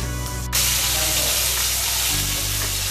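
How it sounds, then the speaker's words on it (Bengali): Loud, steady sizzle of food frying in a pan with green chillies, a sudden burst of hissing as it intensifies early on, then continuous crackling close up with no talking. "এগুলো কিন্তু এর সাথে আমি ভেজে নেব। অনেকটাই ভাজা ভাজা হয়ে গেছে"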